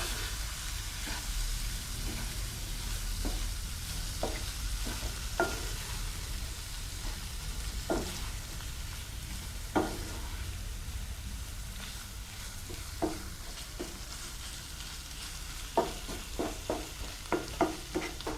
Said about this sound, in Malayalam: ആ മസാലയെല്ലാം ചെമ്മീനിൽ നല്ലോണം പിടിക്കുന്ന രീതിയിൽ നല്ലപോലെ ഒന്ന് മിക്സ് ചെയ്യാം.